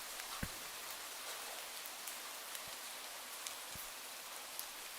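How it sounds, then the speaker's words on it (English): Rain falls in a soft, steady hiss, faint and even, broken by a few sharper single drip-like taps; no one talks. "Do you hear that rain? Do you hear the rain ASMR?"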